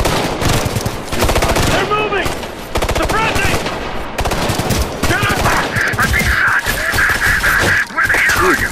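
Rapid, loud machine-gun fire and overlapping gunshots from the video game Ghost Recon Future Soldier, sustained bursts filling the scene, with a faint tonal whine rising later.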